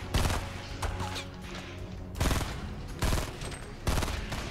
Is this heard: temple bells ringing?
no